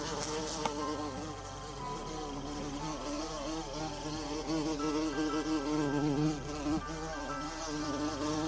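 Bees hum continuously around a hive on a farm, a dense, steady buzz with wavering pitch that fills the whole stretch evenly, close and moderately loud, with no voices.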